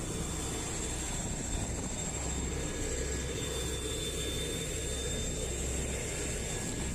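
A Trigana Air propeller airplane drones steadily at Moa airport, its engines giving a constant loud hum with a faint high whine over a broad rushing roar.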